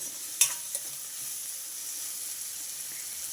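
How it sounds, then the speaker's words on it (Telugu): Onions frying in a pan give a steady, close hiss, with one quick clatter of stirring near the start and then even sizzling. "ఇవి కూడా చక్కగా వేగిపోవాలి ఉల్లిపాయలు మగ్గడం కోసం నేను కొంచెం సాల్ట్ వేస్తున్నా"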